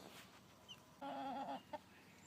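A single hen gives a short burst of clucking at close range, with one more brief cluck after it, against a quiet outdoor backdrop.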